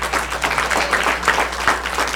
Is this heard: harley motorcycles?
no